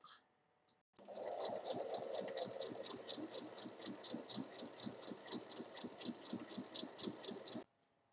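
A sewing machine topstitches along the bottom of a fabric hanging basket, 1 mm from the edge, with a fast, steady mechanical rattle running continuously for several seconds before stopping abruptly.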